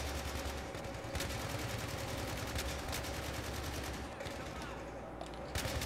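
Rapid bursts of automatic gunfire crackle through a dense Battlefield 3 firefight on PS3, with sharp shots standing out above a continuous wash of battle noise and voices talking over it.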